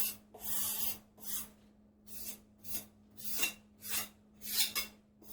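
A trowel smooths wet mortar on a shower curb in rhythmic back-and-forth scraping strokes, about seven or eight sweeps, close and fairly loud over a steady low hum, with no talking.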